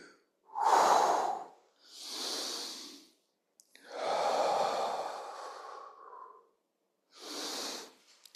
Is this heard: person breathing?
yes